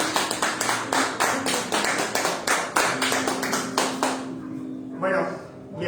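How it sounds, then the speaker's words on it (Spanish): A church congregation claps in a steady rhythmic beat for about four seconds during a Spanish-language worship service, then the clapping stops abruptly and a voice comes in faintly. "Aplausos al Señor"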